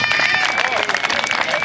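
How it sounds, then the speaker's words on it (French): Audience applause and cheering at a youth football award ceremony for under-nines, a dense burst of clapping from a crowd close by. "On applaudit bien fort Séverine"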